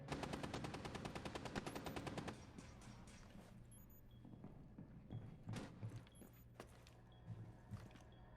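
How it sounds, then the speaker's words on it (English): Gunfire in the Rainbow Six video game: a rapid automatic burst of evenly spaced shots for about two seconds, followed by scattered quieter single shots and clatter. "We're hearing a lot of gunfire up."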